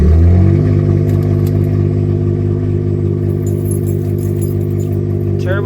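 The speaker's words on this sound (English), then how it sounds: "It's kind of funny that a car can start like this with just nothing." A Suzuki Cappuccino's small engine idles steadily after starting, a loud, close hum with a rich, buzzy tone, and a brief jangle of keys near the end.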